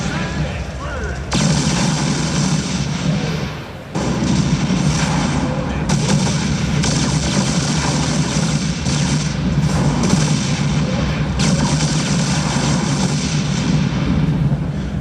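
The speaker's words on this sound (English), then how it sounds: "Fires 2 missiles that's very effective at dealing with enemy capital ships." Battle audio from a StarCraft 2 gameplay preview, where Viking fighters fire missiles amid a loud, dense barrage of booming artillery-like blasts and gunfire that continues almost unbroken, with a brief dip near the start.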